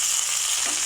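Okra (vendakka) frying in a pan, a steady close hiss of sizzling oil with no voices, held evenly through a single short second.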